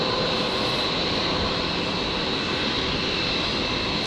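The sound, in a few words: Qantas Boeing 787 Dreamliner departing on runway 01 right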